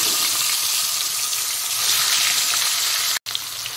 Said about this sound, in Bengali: এইবার ওই 2 পিস চিতল মাছ আমি ভেজে নেব।